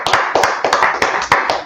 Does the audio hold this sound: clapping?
yes